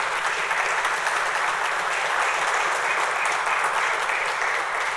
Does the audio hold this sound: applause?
yes